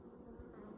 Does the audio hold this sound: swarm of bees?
yes